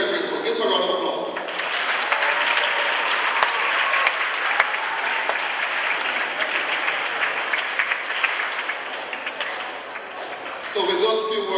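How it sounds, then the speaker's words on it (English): A school audience at a Rotary Club dictionary donation for Class 3 students breaks into loud, sustained applause, thick crowd clapping that rolls on for about ten seconds before tapering, with voices briefly audible at the start and end. "Give them a round of applause."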